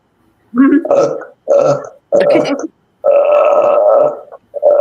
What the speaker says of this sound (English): you're burping on camera